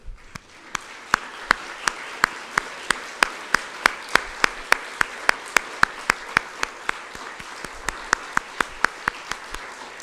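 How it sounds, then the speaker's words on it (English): Audience applause for award recipients standing at a global health night, with a steady wash of clapping and a few sharp, evenly spaced claps cutting through at a brisk, regular beat for the whole stretch. "we would love to applaud you for your work"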